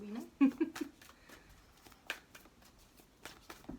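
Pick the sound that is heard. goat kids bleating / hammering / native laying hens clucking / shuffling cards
shuffling cards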